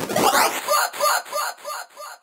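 A vocal run through a tape-stop effect: the pitch sags and slides downward, then the voice returns as a string of short, chopped, rhythmic fragments, about five evenly spaced bursts, loud and close with no speech.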